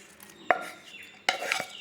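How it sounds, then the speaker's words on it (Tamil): A spoon stirs wheat dosa batter mixed with chopped onion in a bowl, giving a few soft scrapes and light clinks close by, quiet and brief, with no speech. "இப்போ நல்லா கலக்கிட வேண்டியது தான்."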